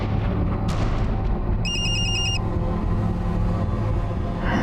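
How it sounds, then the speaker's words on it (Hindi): A phone ringtone chimes in one brief burst of bright, repeating electronic tones, standing out over a steady low rumble that fills the rest of the moment. "जरा ये रिंगटोन सुनना।"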